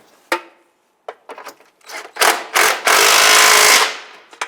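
Tightening bumper bolts on a 2002-2008 Dodge Ram 1500, a few clicks and short clunks, then a loud ratcheting tool burst lasting about a second, close and alone.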